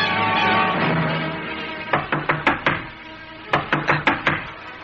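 Someone knocking on a door in two quick bursts of about five raps each, separated by a short pause, crisp and close after a low rumbling background fades.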